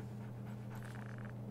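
Riley, the German Shepherd-type military dog in Call of Duty: Ghosts, pants in quick, breathy rhythm. The panting stays close but faint, sitting over a low, steady background hum.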